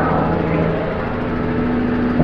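Truck engine droning loudly inside the cab while hauling hay on the road, a steady close rumble at cruising speed with no talk.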